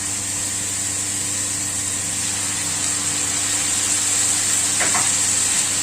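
Pork chao fan with kangkong and oyster sauce stir-frying in a pan, a steady, even sizzle that carries unbroken throughout with a brief scrape of stirring near the end.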